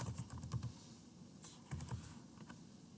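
Someone types on a computer keyboard while renaming a file, a quiet run of close key clicks in short bursts with brief pauses between them and no talking.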